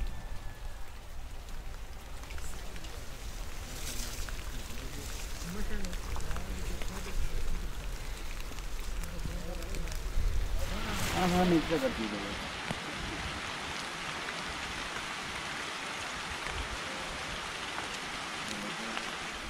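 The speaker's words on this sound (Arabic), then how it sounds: "الآن أمطار اليوم من الصباح" Steady rain falls in Taif, Saudi Arabia, as a continuous hiss of drops on surfaces that grows somewhat heavier partway through, with a voice faintly audible under it.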